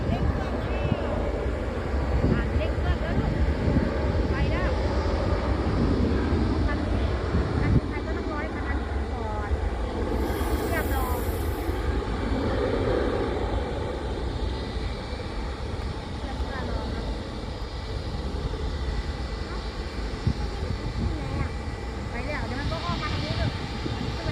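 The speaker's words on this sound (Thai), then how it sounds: "นกแอร์จะขึ้นแล้วนกแอร์เร่งเครื่องไปแล้วครับ" Jet engines roar in a long, steady rumble from some distance as a Nok Air airliner powers up for takeoff at an airport, with people talking faintly over it.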